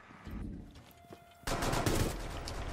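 Rapid machine gun fire in a first-person shooter game: a few scattered shots, then a sudden, loud, sustained automatic burst that rattles on steadily to the end.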